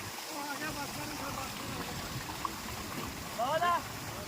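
Steady broadband rush of irrigation water flowing nearby into a fodder field, continuous throughout, with a short voice-like sound near the end.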